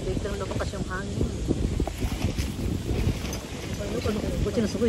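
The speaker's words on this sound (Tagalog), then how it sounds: "Dito na lumakas yung hangin." Strong wind buffets the microphone at a summer beach, a constant loud low rumble that runs through the whole stretch while people talk over it.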